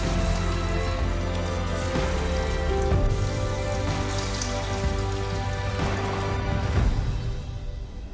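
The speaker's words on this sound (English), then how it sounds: "Now we need to fry these florets." Cauliflower florets frying in hot oil in a kadai, producing a dense, steady rain-like crackle over a low constant hum, easing slightly near the end.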